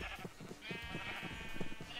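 Several sheep bleat in Minecraft as they run off, repeated nasal bleats overlapping closely amid light background noise, with no talk.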